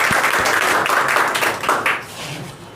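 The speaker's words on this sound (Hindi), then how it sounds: "इसके साथ एक जोरदार ताली।" An audience at a prize distribution ceremony bursts into loud, close clapping that holds steady and then begins to thin out toward the end.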